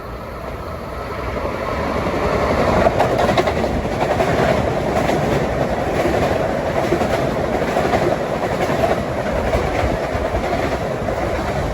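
Long Island Rail Road train 1256 from New York to Hicksville pulls into track 4 at Forest Hills at rush hour, a steady loud rumble with clickety-clack of wheels on rail joints throughout, no voices.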